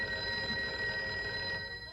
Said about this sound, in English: I was greeted by a sound very much like that of a phone ringing